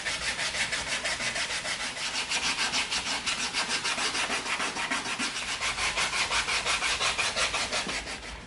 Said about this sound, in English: let's come in with our 80 and our 220 sanding sticks